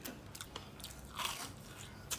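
Crispy fried food, likely eggplant, crunches as it is bitten, with a few sharp crackles and chewing noises close up and no talk.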